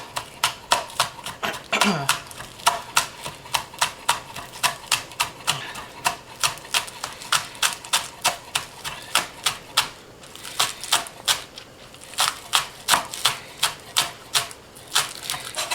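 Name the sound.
knife thinly slicing scallion whites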